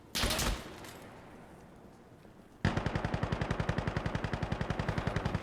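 Automatic gunfire from an M249 light machine gun in the shooter game Insurgency Sandstorm: a short opening burst, a lull, then a loud, steady rapid stream of shots to the end.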